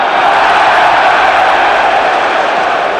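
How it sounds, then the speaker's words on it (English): Dense, loud roar of a large football crowd cheering at an FA Cup sixth-round match, a steady wash of voices held for several seconds without letting up. "to the cheers of the crowd"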